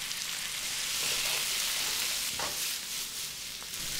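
Bell pepper and onion frying in a hot pan for filete saltado, with a steady bright sizzle throughout and a few soft stirring knocks, no voices.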